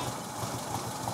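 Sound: Porsche Speedster engine idling, running on one carburetor

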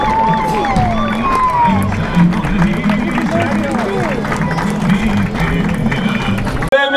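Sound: audience applauding

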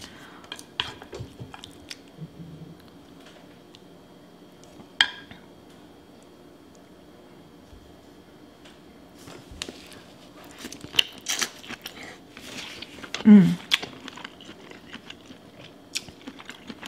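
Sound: chewing seafood boil with sausage

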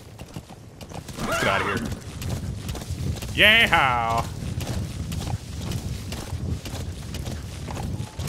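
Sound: horse hooves galloping in Metal Gear Solid V video game

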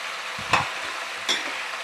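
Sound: vegetables roasting in oil in a pan

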